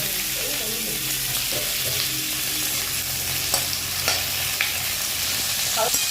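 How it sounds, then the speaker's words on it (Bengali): Cut raw pumpkin frying in hot mustard oil, a steady near hiss of sizzling with a few light stirring scrapes and clicks spaced across several seconds, no one speaking. "তেলটা গরম হয়ে গেছে দিয়ে দিচ্ছি কেটে রাখা কুমড়ো"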